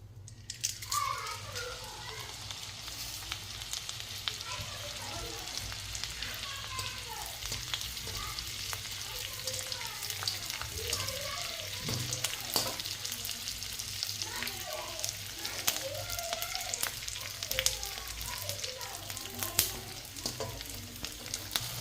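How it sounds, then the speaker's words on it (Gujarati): Edible gum (gund) fries in hot ghee with a steady close crackle and sizzle, punctuated by small popping bursts, continuous throughout over a low background hum. "આપણું ઘી ગરમ થઈ ગયું છે તો આપણે ગુંદ તળી લઈ"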